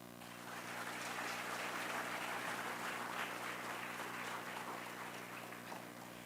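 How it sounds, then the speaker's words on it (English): New university students applaud at a welcome ceremony for new entrants, a steady wash of many hands clapping in a large hall, moderately distant and sustained for several seconds with no talk over it. "Please clap."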